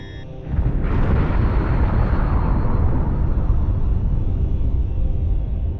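A weapon detonation in Star Trek Online erupts after a brief quiet lead-in, becoming a loud, sustained roaring blast that rumbles on steadily for several seconds without fading much.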